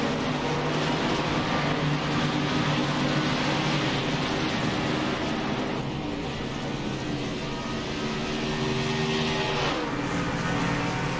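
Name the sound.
race cars driving onto pit road at Daytona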